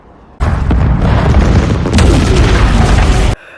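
A loud, sustained explosion of a ship in a sci-fi film roars for about three seconds, a deep rumbling blast with crackling debris, beginning and ending abruptly.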